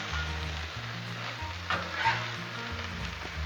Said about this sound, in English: I think I'm gonna come in here and put a little bit of oil on these fries and give them a good stir